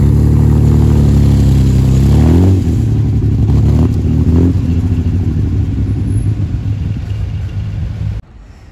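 Classic sports cars, among them a Ferrari Monza SP2, rumble loudly and steadily at close range at a rally. Engines swell with a couple of revs before the roar drops away near the end.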